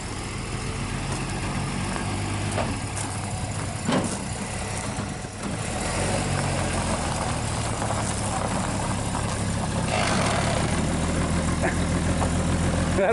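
A 1961 Dodge Lancer engine runs steadily during a short drive, a low continuous rumble with a few knocks and bumps. Voices can be heard talking faintly over it.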